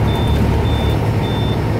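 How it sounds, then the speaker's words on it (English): A truck's alarm sounds in Knoxville rush-hour traffic as three evenly spaced, high, piercing beeps over a loud, constant engine rumble. No one speaks. "restarted and the alarm went off"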